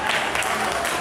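Brief applause at a motorcycle season-opening meet as the owner of a 1957 Jawa is honoured, a quick burst of crowd clapping.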